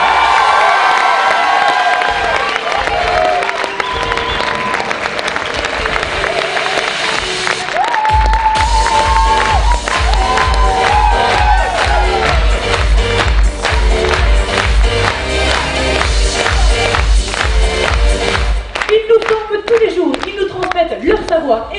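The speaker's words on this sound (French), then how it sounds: "on peut applaudir très fort la directrice du pôle tourisme de la CCI. Sous vos applaudissements, Marie-Christine Kaylor." Audience at a CCI tourism event in Millau clapping and cheering as a director is welcomed; dense applause with shouts runs throughout, joined midway by loud music with a pounding beat.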